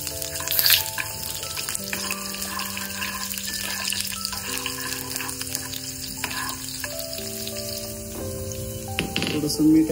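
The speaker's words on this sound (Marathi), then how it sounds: "तेल तापलेलं आहे, यामध्ये ऍड करायचा आपल्याला कांदा. सगळ्यात उभा चिरलेला कांदा आहे तोच ॲड करायचा," Sliced onion, cut lengthwise, fries steadily in hot oil, giving a continuous loud sizzle with occasional stirring clatter. Sustained tonal hums and some background noise sit under it. No words are spoken.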